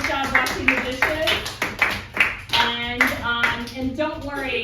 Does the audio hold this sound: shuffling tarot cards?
no